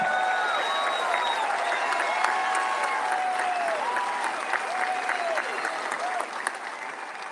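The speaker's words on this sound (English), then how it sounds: "let's keep that round of applause going for Dr. James Sweetland." Large outdoor rally crowd in Butler, Pennsylvania, applauding steadily for over seven seconds, a dense wash of clapping with scattered whistles and shouts rising above it at moderate distance.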